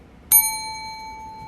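A single bright ding of a small bell, struck once close by and ringing out with a long, slowly fading tone in an otherwise quiet room.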